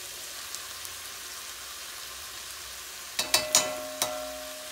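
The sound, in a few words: chicken sautéing in a pot on the stove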